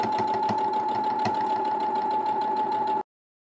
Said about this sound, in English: we're going to sew all the way around again to ensure that it's flatter and that it's more durable